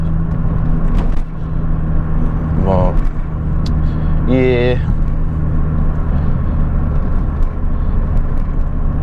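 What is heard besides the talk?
car exhaust while running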